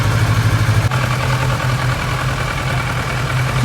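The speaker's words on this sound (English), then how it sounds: "The engine has been running for some time now" A Kawasaki Versys 650 motorcycle engine idles steadily after an oil change, a close, even low rumble with a constant rhythm and no talk over it.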